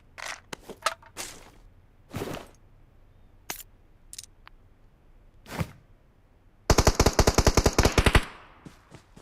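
Gunfire in an online shooter game: scattered single shots and sharp cracks, then a rapid automatic burst near the end, crisp and close.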